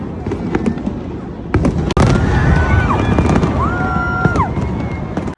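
New Year fireworks burst over Bangkok at midnight, loud crackling and booming blasts layered with whistling rising shells, close and continuous, with a crowd's voices mixed in.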